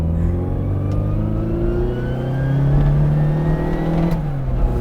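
A Mk3 Mini Cooper S with a 76 bhp engine revs under a light throttle, its steady drone climbing and falling in pitch as the revs swing, heard close up and with no talk over it.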